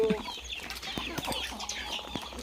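Several chickens cluck and murmur at a distance in the rural Philippine countryside, with scattered short calls and faint outdoor ambience.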